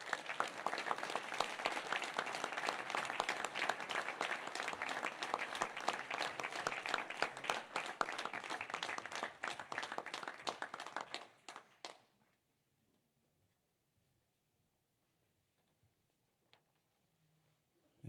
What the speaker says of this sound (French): je vous demande d'applaudir, mesdames et messieurs